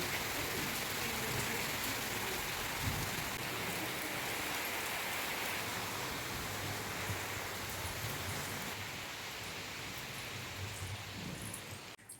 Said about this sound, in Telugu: వర్షం అయితే ఫుల్ పడుతుందండి